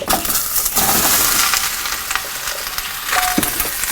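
Two and a half pounds of sliced onions fry in a tablespoon of olive oil in a preheated pan, a loud, close sizzle with occasional stirring scrapes and no talk.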